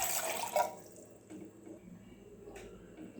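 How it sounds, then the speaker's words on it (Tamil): Water is poured into a pan for making black coffee with ginger and sugar, a brief splashing pour at the start that fades into faint drips and quiet trickling. "இப்போது தண்ணி ஊற்றிக்கலாம்."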